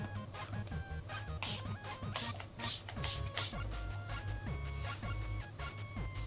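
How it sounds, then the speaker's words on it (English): A hair dryer fitted with a diffuser blows steadily and loudly on a man's curly hair, a dense whirring hum with scratchy, shifting texture throughout. "And then we're going to blow dry it."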